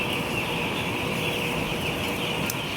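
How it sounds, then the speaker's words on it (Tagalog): Broiler chickens on a hot farm, about eight days old and crowded together, giving a constant dense chorus of clucking and peeping as a steady wash of sound. "Kita nyo yung mga manok dyan"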